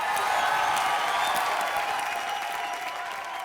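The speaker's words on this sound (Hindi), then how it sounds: "जोरदार तालियां हो जाए इसकी मौत के लिए" Audience applause fills a comedy show on an Indian TV set, dense and continuous clapping from a large crowd, loud and sustained throughout before easing slightly toward the end.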